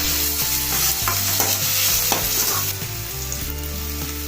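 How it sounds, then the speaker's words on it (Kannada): Green chili paste frying in hot oil for a sabudana snack, a spoon scraping and stirring in the pan over a continuous close sizzle, with no one talking. "ಎಲ್ಲ ನೀಟಾಗಿ ಚೆನ್ನಾಗಿ ಫ್ರೈ ಮಾಡಿ ಈ ಥರ"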